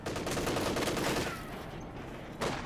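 Video game gunfire in a tournament semifinal match: loud, dense volleys of rapid shots that ease briefly, then flare up again in a short final burst.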